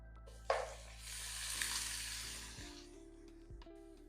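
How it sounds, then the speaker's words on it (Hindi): Meat (gosht) drops into a pan of frying onions and gives a brief hiss that swells into a soft sizzle before settling, faint and close, with no talking. "प्याज को फ्राई करके इसमें डाल देंगे गोश्त"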